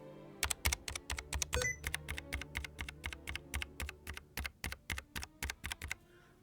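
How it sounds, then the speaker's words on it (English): Rapid, crisp keystrokes clatter on a Logitech G915 X Lightspeed keyboard, a steady run of about twenty clicks close by with no talking. "Keyboard sound."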